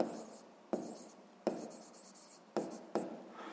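A pen scratches across paper while a sixth-grade math exercise is worked out, in several short strokes, each starting with a sharp tap, close and alone with no talk.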